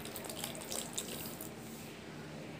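Water trickles and drips faintly, added bit by bit to a flattened rice mixture being worked into dough, a soft, low splashing close by.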